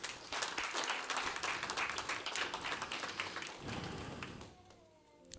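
Church congregation gives a strong round of applause, steady and full for several seconds before tapering off, with faint speech at the end.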